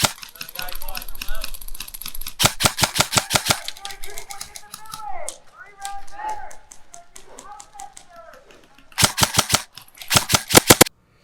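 Outdoor airsoft gunfire crackles in rapid bursts of sharp snapping shots, several quick strings spread across the moment, close and loud, with players shouting and talking between the volleys.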